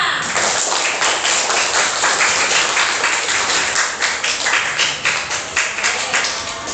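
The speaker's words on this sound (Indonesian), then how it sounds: "Tepuk tangan untuk kita semua." A classroom of students claps after group presentations, a dense, steady patter of many hands filling the room and holding loud and even throughout.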